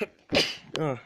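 A single short sneeze bursts out, followed moments later by a person's brief vocal exclamation, both fairly close and moderately loud.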